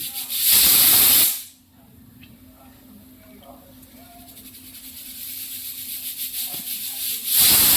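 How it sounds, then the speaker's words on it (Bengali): A pressure cooker whistles as mutton curry cooks inside it, letting out a loud burst of hissing steam that cuts off and comes back near the end. Quieter kitchen sounds and soft murmuring fill the gap between the two bursts. "কুকারের সিটি হয়ে গেছে"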